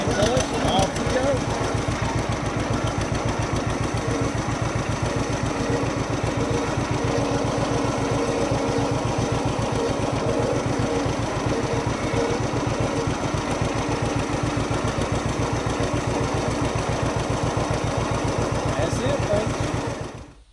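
Old John Deere 50 tractor engine chugging steadily while driving in gear, a loud, close, even putter with a rapid regular firing pulse that holds throughout before cutting off at the end.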